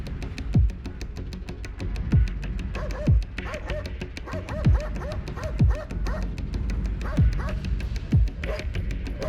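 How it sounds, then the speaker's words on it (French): Two aggressive dogs bark at a burglar, about eight loud, evenly spaced barks with some yipping between them, close by over steady background noise. "quand il est confronté à 2 chiens agressifs, il fuit les lieux le plus vite possible"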